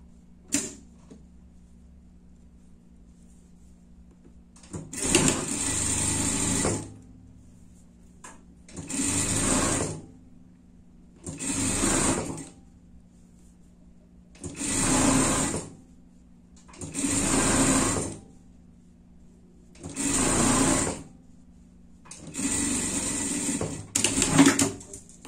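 A sewing machine runs safety stitching on a pet outfit with a cow-print hood, whirring in seven or eight distinct bursts of a few seconds each, separated by short pauses, close and clear with no talk.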